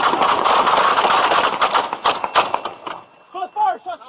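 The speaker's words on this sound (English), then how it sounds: "Shots fired. Shots fired." Gunshots ring out during a San Diego traffic stop where an armed passenger fires and deputies return fire, a rapid loud burst of repeated shots over shouting voices, then a short pause and a few more cracks as an officer yells.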